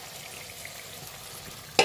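Spices frying with mashed potato in a pan, a steady soft sizzle running throughout, fairly quiet and even, with a brief sharp clatter right at the end.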